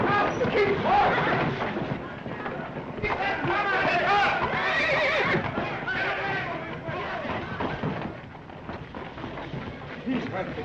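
Horses whinny and hooves clatter amid a chaotic battle scene from a 1935 Crusades film, with shouting voices and crowd noise mixed in throughout at a loud, busy level.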